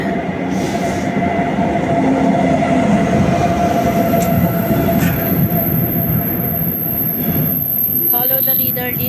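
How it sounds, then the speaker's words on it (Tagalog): A train pulls into Bremen Hauptbahnhof station with a loud, continuous rumble of rolling wheels and carriages, a thin high squeal near the end, and faint voices in the background. "Ayan ang tren."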